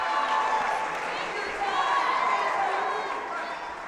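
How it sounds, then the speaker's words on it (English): Crowd at an obstacle course competition yelling encouragement, overlapping voices and cheers rising and falling over a continuous murmur, fairly close and loud, with shouted words mixed into the noise. "Even the crowd yelling out, take your time."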